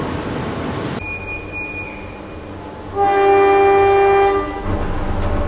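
The Sancaka Utara train departs Solo Balapan station at night, sounding a loud sustained horn blast of over a second over steady rail and station rumble, with engine noise before and after.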